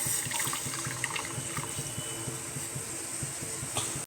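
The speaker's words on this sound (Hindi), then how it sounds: "और थोड़ी सी दूध। थोड़ी और डालते हैं।" Milk poured into a pot of tea being made in a village kitchen, a steady close liquid trickle and splash running throughout, no talking.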